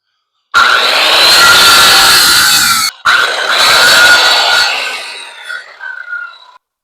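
Hand sawing through a piece of wood clamped in a bench vise, a steady rasping stroke sound for about two and a half seconds, a short break, then more sawing that trails off into a few lighter scrapes.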